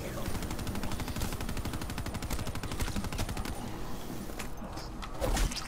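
The rotary Death Machine minigun in Call of Duty: Black Ops 3 zombies on Nacht der Untoten fires a steady, very rapid stream of rattling shots for several seconds, with a faint voice under the gunfire.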